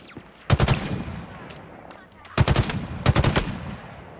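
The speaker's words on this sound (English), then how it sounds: "One thing I like about the battle rifle, though, it's a kind of a mid-range sniper." Battle rifle fire in the video game Halo Infinite, loud close bursts of rapid shots, one at the start and two more after a short pause, each trailing into game ambience.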